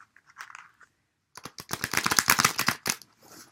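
Sacred geometry oracle cards are shuffled by hand in a quick burst of crisp riffling and slapping, preceded by a few soft taps, close and alone without talk.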